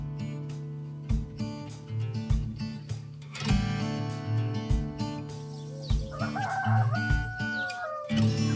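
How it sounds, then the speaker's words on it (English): Roosters crow repeatedly around a peaceful Albanian village, their calls overlapping near and far over a steady hum, with clucking and some bird calls mixed in. "all the roosters are singing"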